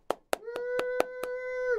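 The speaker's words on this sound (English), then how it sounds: "I'll give him applause." Six slow, sharp hand claps from a single person on a talk show, evenly spaced and close up, with a sustained held voice tone running beneath them.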